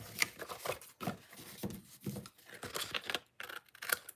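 Scissors trimming the edge of a paper card seal, a run of short, close snipping and crisp cuts in quick succession, quiet and alone.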